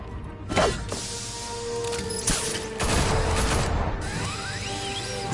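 In The Batman Telltale Series, a burst of gunfire rattles out in several loud volleys, mixed with mechanical clatter and crashing impacts, up close and dominant.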